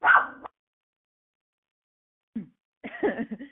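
A dog lets out a few short yips or barks in three brief bursts, close and fairly loud, separated by silence.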